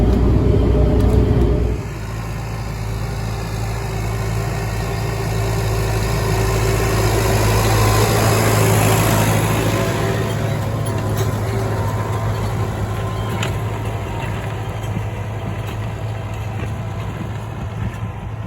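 An Erkunt Haşmet 110 tractor engine runs steadily close by in a field with a constant low drone, after a brief louder start, holding a continuous hum throughout.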